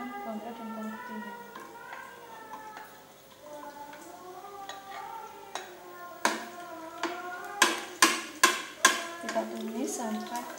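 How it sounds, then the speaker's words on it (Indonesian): Shallots and garlic go into a pan to sauté for mie rebus, giving a soft sizzle with several close, sharp clinks of a utensil against the pan as the cooking gets going. "Langsung kita masukkan bawang merah dan bawang putihnya."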